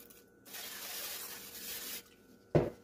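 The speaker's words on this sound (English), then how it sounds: "what I do is I spray it on the stove" A steady hiss of lemon Pledge furniture polish sprayed onto a stove, lasting about a second and a half, followed by a short, sharp clunk after a pause.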